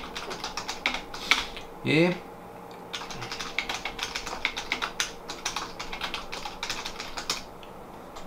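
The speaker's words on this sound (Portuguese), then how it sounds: "posso escrever qualquer coisa aqui" Quick typing on a computer keyboard, a dense run of close key clicks with brief pauses and a short spoken word partway through.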